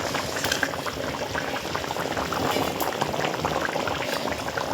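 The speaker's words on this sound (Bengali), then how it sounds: "ঝোলটা ফুটে গেছে" Egg curry gravy bubbling at a steady boil in a pot, a dense continuous burble of popping bubbles at close range, loud and even throughout with no talking.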